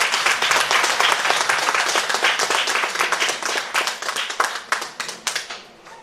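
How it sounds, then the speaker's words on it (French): Sustained applause from an audience at a mayoral investiture ceremony in L'Anse, dense clapping that holds steady and then thins out into scattered, individual claps near the end. "merci de les accueillir sous vos applaudissements"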